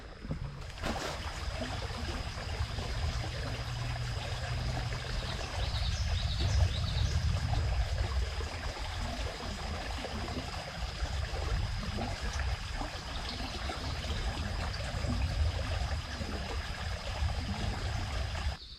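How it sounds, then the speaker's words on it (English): A babbling brook in the Hopewell Big Woods Crow's Nest preserve on an early spring morning: continuous soft gurgling and trickling water, faint and steady, with no voices. "Let's put the GoPro down and listen to the babbling brook."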